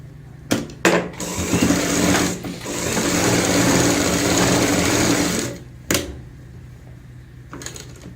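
A sewing machine stitches buckram piping onto fabric, running in short bursts before settling into a long, steady whirring stretch, then stopping with a few brief clunks; close and alone, no talking.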